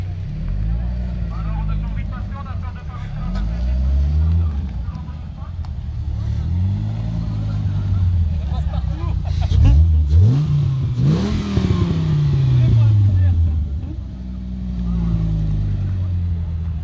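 Dodge Viper at a car meet revs repeatedly, its engine swelling and falling in loud sweeping bursts under ongoing talk, with crowd noise around.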